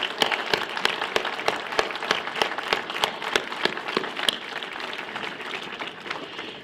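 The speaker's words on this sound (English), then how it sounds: "let's give them one last round of applause." Sustained applause from a school audience gathered for a memorial event, dense steady clapping with a few sharper claps standing out, moderately loud, fading slightly toward the end with no talk over it.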